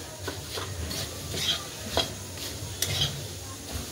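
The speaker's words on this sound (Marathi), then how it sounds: "आता जे आपलं साहित्य भाजलेलं आहे ते आपण टाकून घेऊया ह्याच्यात आणि परत एकजीव करून घेऊया" Roasted peanuts, roasted chickpeas and coconut stirred into poha chivda in a pan, a spoon scraping and tossing in soft repeated strokes with light rustling, close and steady.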